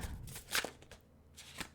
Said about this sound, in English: If I can shuffle the cards first.